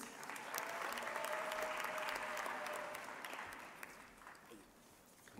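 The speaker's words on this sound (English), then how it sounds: "big round of applause" Steady applause fills a university graduation ceremony hall as graduates are congratulated, sustained clapping with a faint tone beneath it, easing slightly near the end.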